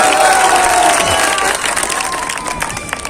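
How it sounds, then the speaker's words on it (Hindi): Loud crowd applause at an outdoor election rally in Bihar, dense clapping welcoming guests that gradually thins and fades over a few seconds, with a general crowd murmur and no speech over it. "हमरो तरफ से ताली बजा के स्वागत है"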